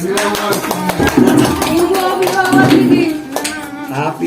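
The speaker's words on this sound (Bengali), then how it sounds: "নাও সবাই হাততালি দাও" A group clapping at a wedding anniversary celebration, irregular claps mixed with loud voices and chatter throughout.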